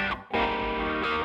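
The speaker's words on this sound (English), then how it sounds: "It's usually best to record your guitar with those effects that shape and define your sound, such as distortion and wah-wah pedals." An electric guitar played through a distortion effect rings out in sustained, buzzing chords, loud and dense, with a brief dip and then a fresh strike, played alone.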